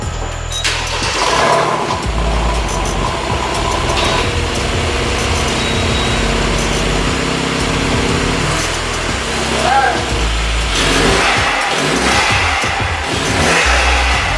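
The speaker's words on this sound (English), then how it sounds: "So get you a couple cold start, rev, with the valves closed and open." A car with an F-chassis valvetronic exhaust cold-starts and revs, heard with the valves both closed and open: a loud, close engine with deep rumbling, rising revs and burbles. Voices talk over it at times.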